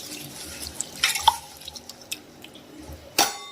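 Lentils being rinsed in water, with scattered drips and splashes, a couple of sharper sloshing bursts near the end, and faucet-like running water, close and fairly quiet.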